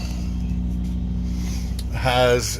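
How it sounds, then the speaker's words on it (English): A refrigeration unit on a truck trailer runs nearby with a steady low drone, while a vehicle engine swells louder near the end of the clip. "it's a refrigerated truck, so it has this motor on the back of it on the trailer that is loud and it's always running"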